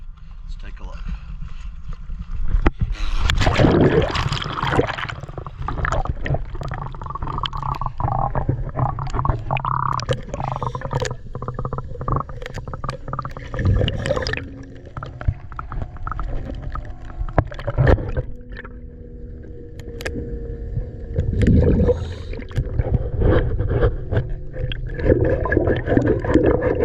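Underwater swimming around a boat's hull, with muffled gurgling, bubbling and bumps of water movement, mostly steady with a few louder splashy surges, while a voice talks over it.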